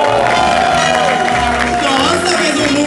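A show audience cheers and claps for a performer, a loud continuous crowd roar with whoops, and a voice talks over it.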